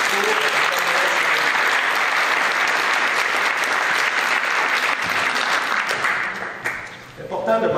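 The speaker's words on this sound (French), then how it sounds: "Alors, une bonne main d'applaudissements pour..." Sustained, dense applause from an audience at a public information session fills the space, steady and loud, then thins and tapers near the end as talking begins.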